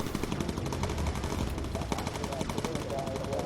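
Rapid bursts of aircraft machine-gun fire rattle continuously from a WWII bomber in the Bomber Crew game, loud dense repeated shots over engine drone.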